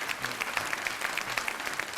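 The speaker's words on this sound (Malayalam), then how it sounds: "നല്ലൊരു കൈയടി കൊടുക്കാം." Audience at a comedy stage magic show clapping, a dense, steady patter of many hands at moderate distance, continuous throughout without a clear start or end.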